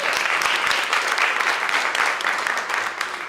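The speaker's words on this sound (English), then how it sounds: "Let's give her a round of applause" An audience at a student awards gala applauds a school board member, with dense, even clapping that stays steady from start to finish, full and close.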